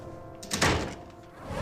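A door shuts with a single solid thunk at mid-clip, close and fairly loud, followed by a quiet room tone.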